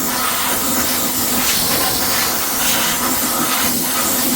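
Compressed air hisses steadily into the intake boot of a Gilera Runner VXR200 scooter with the carburettor removed, blowing out dirt, a loud continuous close-up blast throughout.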